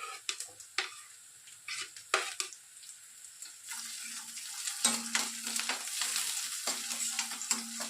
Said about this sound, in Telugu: ఆనియన్స్ కాస్త మగ్గిన తర్వాత నేను ఇక్కడ పచ్చిమిర్చిని యాడ్ చేసుకుంటున్నాను.